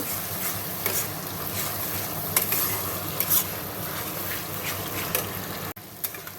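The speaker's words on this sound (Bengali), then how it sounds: "দেখো মশলাটা দিয়ে দিয়েছি, আর নুন হলুদ একটু মিষ্টি দিয়ে ভালো করে কষে নেব।" Spices with salt, turmeric and a little sugar are stir-fried for a mutton curry, giving a steady close sizzle with repeated stirring and scraping in the pan and a few sharp clinks.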